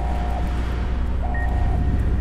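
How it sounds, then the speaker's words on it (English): Repeated electronic beeping in the video game Fallout: New Vegas, a steady tone sounding twice with a higher chirp between, over a constant low hum. "That's probably going to become annoying very soon. That beeping."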